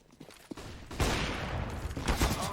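AK rifle fire rattles in a Counter-Strike match, with a few sharp early shots giving way to a dense, sustained burst of rapid gunfire over a noisy, busy background.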